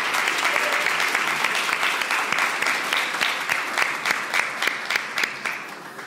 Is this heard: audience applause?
yes